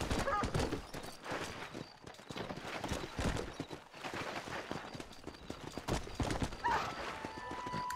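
Galloping horse hooves in the video game Red Dead Redemption, a fast continuous clip-clop rhythm running the whole time, loud and close, with a brief whinny and game effects mixed in.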